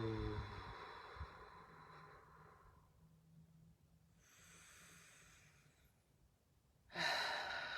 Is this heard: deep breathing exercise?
yes